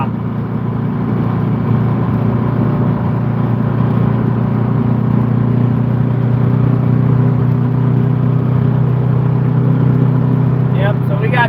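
A truck engine runs at a steady, heavy rumble, a loud and unbroken low drone that holds throughout with no change in pace.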